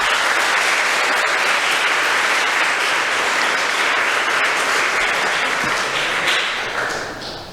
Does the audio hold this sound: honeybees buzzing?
no